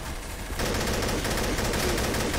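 Sudden burst of rapid, loud video game gunfire in Trouble in Terrorist Town that starts after a brief quiet moment and continues as a dense, sustained volley.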